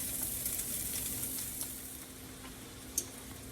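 Ground meat sizzles and browns in a pan, a steady crackling fry heard close with one brief clink near the end.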